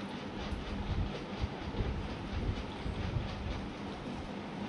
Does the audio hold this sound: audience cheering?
no